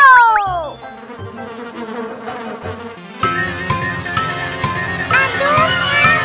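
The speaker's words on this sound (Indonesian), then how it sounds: "Bunyi berdengung pilot nyamuk." An animated cartoon mosquito buzzes loudly over a bright children's song track, its whining drone weaving through the music.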